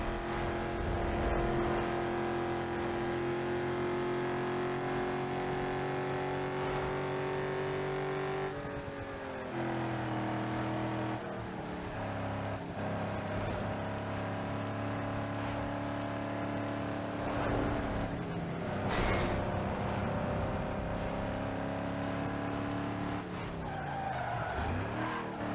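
An SUV driving and skidding in Need for Speed Underground 2, the engine droning steadily while tires squeal through repeated slides and turns, with gear shifts and revs breaking the constant loud roar and no talking.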